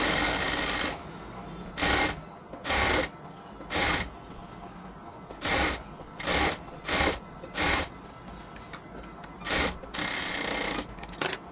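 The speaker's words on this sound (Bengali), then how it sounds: "ঠিক এভাবে হচ্ছে আমরা ড্রেসটাকে কমপ্লিটলি সেলাই করে নিলাম।" Sewing machine stitching a cotton dress, running in about ten short bursts of a second or so each, separated by pauses with faint handling of the fabric; close and clear.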